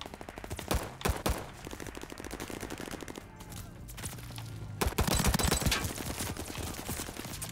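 Pistol gunfire in Call of Duty Vanguard's Arms Race mode: dense, rapid volleys of shots crackle throughout, with brief lulls and a louder burst near the end, mixed with surrounding battle fire.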